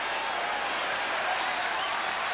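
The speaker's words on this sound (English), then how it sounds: "the crowd getting fired up with the 58-yard punt by Cameron" Football crowd at a 1998 CFL game between the Montreal Alouettes and Winnipeg Blue Bombers in Winnipeg, cheering after a 58-yard punt: a steady, broad roar and applause, loud and unbroken for a couple of seconds.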